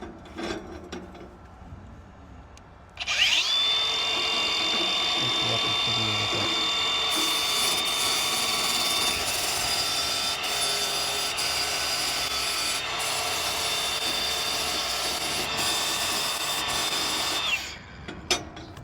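A grinder fitted with a flap disc grinding metal, a steady high-pitched whine with a constant abrasive rasp that runs loud and unbroken for about fourteen seconds before spinning down. Talk is faint before it starts.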